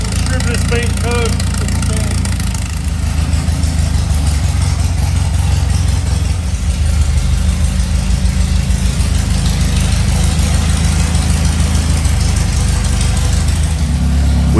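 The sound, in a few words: car engine running on first start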